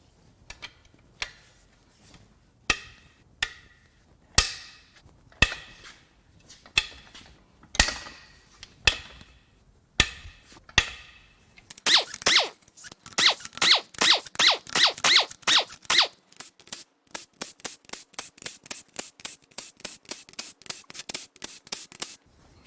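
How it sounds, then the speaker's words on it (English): Main cap and bedplate bolts cracked loose on a BMW N20 engine from a 328i, a series of sharp metallic clicks and snaps, first spaced out and then in quick bursts of ratcheting, close and with no voices. "Now it's time to crack these main cap bolts loose, and then the rest of the surrounding bed plate bolts."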